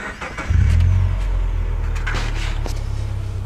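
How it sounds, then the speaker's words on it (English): Car fitted with dual MagnaFlow mufflers and 3-inch round double-wall tips cranks briefly, then fires into a loud, deep rumbling idle that settles and holds steady close by. "Okay, let's start this guy up."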